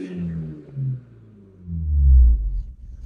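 A Vauxhall Nova GTE engine in a garage gets two rising revs, deep and close, the second longer and louder, its low tone sweeping up and falling back.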